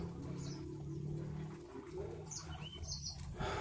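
Birds kept in cages around a mountain-foot village chirp in short scattered calls over a steady background rumble, with no talking.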